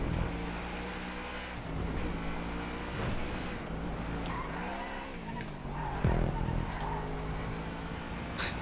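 A sports car in GTA 5 races with its engine droning steadily while tires squeal and skid under hard braking, sustained and loud, with a sharper scrape near the end.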